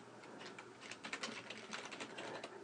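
Fingers type quickly on a computer keyboard, a faint, dense run of small clicks continuing steadily throughout with no voice.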